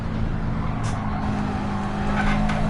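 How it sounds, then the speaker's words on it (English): Subaru WRX race car in Gran Turismo 7 at Monza, with a continuous, even engine drone and faint tyre noise running steadily throughout, no voices. "car sound"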